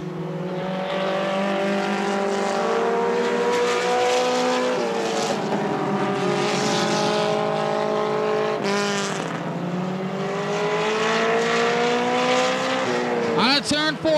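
Race cars on the final lap at Tri City Motor Speedway in 2003 roar in a loud, sustained high-revving whine that rises and falls as the pack passes, with a sharp rising pass near the end and announcer talk mixed in.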